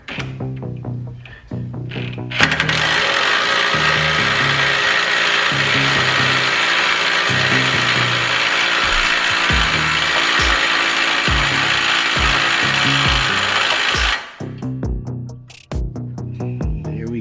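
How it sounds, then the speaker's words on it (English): A loud power drill tightens wheel lug nuts, whirring continuously for about twelve seconds, bracketed by short bursts of ratcheting and clanking at the start and end. "We make sure it is on tighten."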